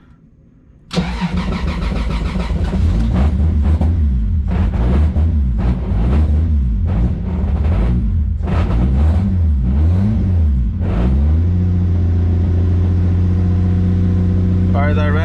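A Toyota Supra engine cranks and fires, then runs loudly and roughly close by, with a persistent rattling from the clutch fork under the uneven idle and revs.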